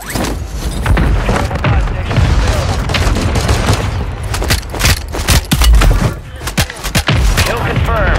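Friendly mortar rounds pounding in a Call of Duty match, a dense barrage of booms and gunfire cracks layered into continuous loud combat noise with thumping impacts throughout.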